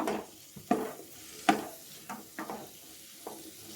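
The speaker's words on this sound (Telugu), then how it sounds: "ఈ క్యాలీఫ్లవర్స్ ఇందులోకి వేసుకొని ఫ్రై చేయండి దానివల్ల మంచి టేస్ట్ వస్తుంది" Cauliflower florets fry in a pan for a dhaba-style masala curry, with a soft sizzle under a few sharp spatula scrapes and knocks as the pieces are stirred.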